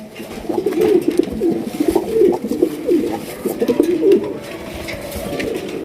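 A pair of bright red Bombay pigeons coo steadily and loudly at close range, with repeated throaty calls against constant background noise and some faint talk.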